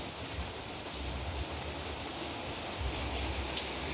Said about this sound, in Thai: พาไปเบิ่งฝนจังหน่อย